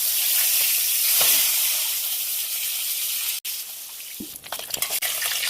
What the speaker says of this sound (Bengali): মাছগুলো এই পিঠটা ভাজার জন্য উঠে দেবো।